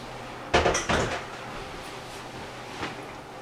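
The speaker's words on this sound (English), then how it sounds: "today I'm going to remove the bowl" A mixing bowl lifted off a wooden table after making cavatelli dough, a pair of close clunks and scrapes followed by quiet room tone and one faint knock.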